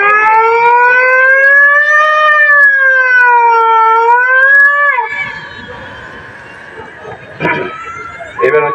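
A voice mimics a minister's car siren at a senior citizens' talent show, holding a loud, undulating wail for about five seconds before it fades into audience murmur and applause.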